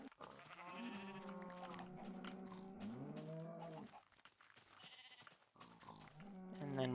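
Sheep bleating in the video game Minecraft: several wavering, drawn-out bleats in a row, close and clear with short pauses between calls and no talk.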